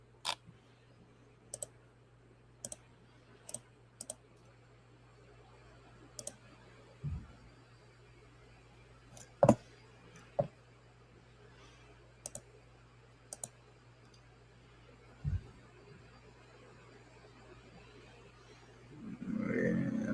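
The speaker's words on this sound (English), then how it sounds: "just clicking through to see what windows I actually have open." Computer mouse clicks sound while windows are clicked through, about a dozen sharp, isolated clicks spread irregularly over a quiet background with a low steady hum.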